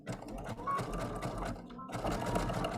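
A sewing machine runs steadily, stitching a quick zigzag along the edge of a coiled rope bowl, a continuous close mechanical whir with a brief pause near the end before it resumes.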